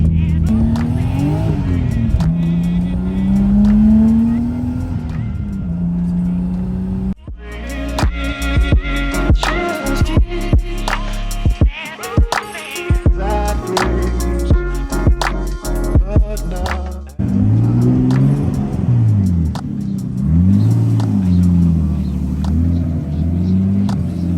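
Nissan Skyline R32 GTS-T driving, its engine rumbling loudly through rising and falling revs, with a rougher, choppier stretch in the middle and a few tire sounds, and no talk over it.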